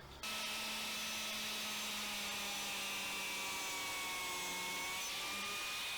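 A biscuit joiner cuts a spline slot across a wooden miter joint, a steady high motor whine that winds down gradually over several seconds, heard close and alone.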